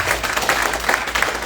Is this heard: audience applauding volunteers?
yes